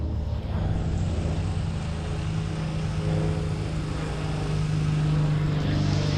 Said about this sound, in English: A little bit of satisfying jet wash